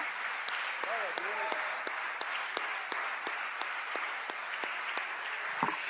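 Church congregation applauding together, a dense, steady wash of clapping from many hands filling the room and continuing throughout, with a brief voice heard faintly near the start.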